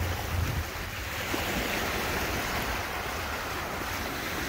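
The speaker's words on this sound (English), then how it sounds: "You got the rocks, you got the waves." Lake Superior waves wash against a rocky North Shore, a continuous rushing surf with wind buffeting the microphone and no voices.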